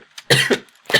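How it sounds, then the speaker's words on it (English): A short burst of two or three harsh coughs, close and loud, with a brief pause between them. "Don't mind me, just coughing fit."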